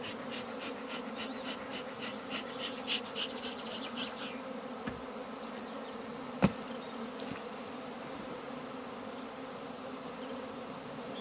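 A honeybee swarm hums continuously around a cardboard box, a dense close buzz with faint repeated clicks early on and a single sharp knock midway, no speech.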